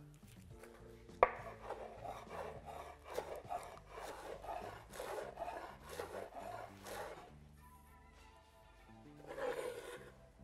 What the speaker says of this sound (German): Dann schneide ich noch etwas frischen Schnittlauch.